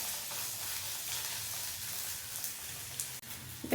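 Chopped large and small onions sautéing in a pan with ginger garlic paste for a mutton and brinjal curry, giving a steady, close sizzle and hiss throughout with a few faint stirring scrapes near the end.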